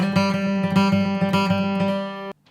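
Bluegrass acoustic guitar picks out a bright octave riff, a steady run of plucked notes ringing clearly on their own before stopping abruptly.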